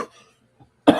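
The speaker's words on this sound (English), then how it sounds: "got a little cough" A single sharp cough bursts out loud and close near the end, preceded by near silence with a faint breath or murmur.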